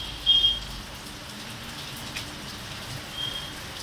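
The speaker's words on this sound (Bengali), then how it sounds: "বিশাল বৃষ্টি হচ্ছে।" Heavy rain pours down steadily around trees, a soft continuous patter with a few brief louder thumps near the start and middle, and no one speaking.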